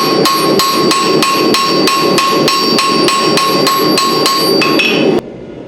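Rapid, steady hammer blows ring on forged steel as a cheese slicer blade is smoothed on an anvil, a loud metallic series of evenly spaced strikes that stops abruptly near the end.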